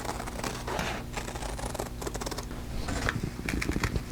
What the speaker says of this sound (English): get my scissors in there, and then just cut it out